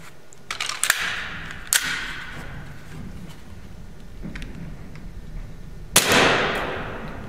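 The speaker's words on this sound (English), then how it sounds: "we're actually going to test out the gun, chronograph it" A KJW Glock 23 airsoft pistol fires .020 BBs in sharp, separate cracks: a couple of quick shots near the start, another around the two-second mark, and a louder, close final shot that rings out after a long pause.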